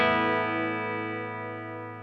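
A single distorted guitar chord played through a Mark IIC+ preamp simulator plugin with a new 12AX7 tube model rings out thick and harmonically rich, then slowly decays at steady loudness.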